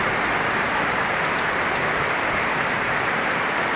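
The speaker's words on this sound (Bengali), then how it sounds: "অনেক বৃষ্টি হয়ে গেল ভালো লাগছে" Heavy rain falls steadily and loudly throughout, a dense, even hiss of drops with no pauses and no voices.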